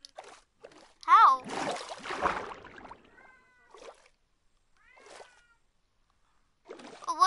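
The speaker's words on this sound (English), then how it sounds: "they are legit meowing in real life" Several cats meowing in a real room, heard as short, rising calls near the start and again at the end, mixed with nearby speech and some splashing noise in between.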